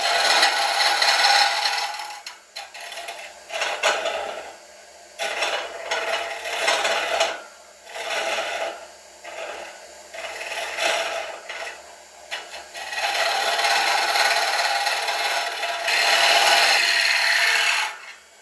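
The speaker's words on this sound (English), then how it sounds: "just letting the bevel run across that wood" A gouge cutting the inside of a large wooden bowl on a lathe gives a loud, close, rasping scrape in long continuous passes broken by short pauses, with no talking.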